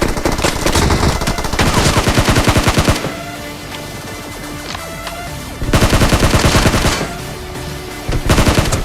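Loud, rapid automatic gunfire from PUBG Mobile comes in long sustained bursts, broken by a few seconds of sparser shots and game noise before heavy firing resumes.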